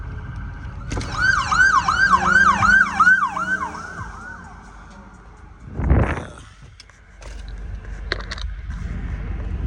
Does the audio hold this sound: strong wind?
no